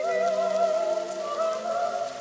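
Rain falls in a film scene from Carlito's Way starring Al Pacino, a soft, even hiss of drops beneath sustained, melodic music.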